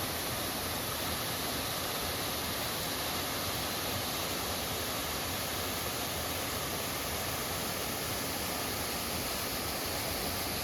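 A steady, unbroken rush of falling water, like a waterfall heard from a moderate distance, with no voices.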